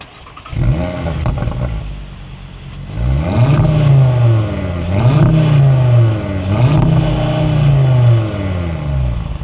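An Audi RS3 in RS sport mode cranks and fires up, then revs loudly several times in rising, falling sweeps, idling high between blips, close by with no talk.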